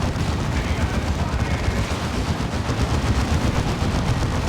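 Gunfire and explosions in the real-time strategy video game Dawn of War 2 form a dense, continuous battle din of overlapping shots and booms, with a commentator talking over it.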